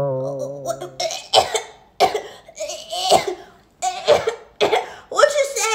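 A child coughs repeatedly, five or six harsh bursts in a row, close and loud, after a brief vocal sound at the start.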